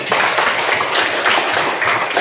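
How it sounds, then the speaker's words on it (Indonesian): A school class of students claps their hands together during an Islamic history lesson, a close, loud, continuous patter of many hands. "tepuk tangan lagi"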